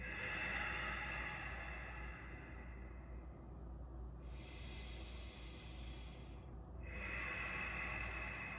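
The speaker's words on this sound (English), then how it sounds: "Breathing all the way in," Slow, deep breaths during a yoga session, a long airy inhale and exhale heard close over a steady low background hum, with no talking.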